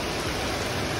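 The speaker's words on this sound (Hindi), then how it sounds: "इतनी भयानक बारिश हो रही है" Heavy rain pours down in Dehradun, a dense, steady, close hiss of falling water filling the whole moment without pause.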